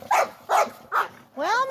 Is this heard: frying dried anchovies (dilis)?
no